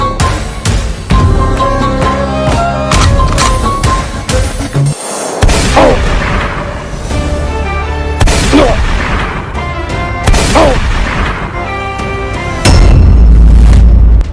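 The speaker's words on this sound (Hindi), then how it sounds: "ये धमाके की आवाज कैसी थी?" Heavy booming blasts in a dramatic Indian army action scene, several deep explosive hits rolling through a dense, loud soundtrack with brief gaps and a sustained rumble near the end; no speech.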